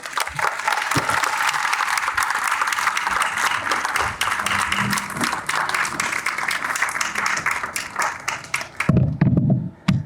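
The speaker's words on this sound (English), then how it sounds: "So please give him a rousing cheer, Eduardo" Sustained applause from a lecture audience welcoming a speaker, dense clapping from many hands filling the room for about nine seconds before it abruptly stops and a voice begins.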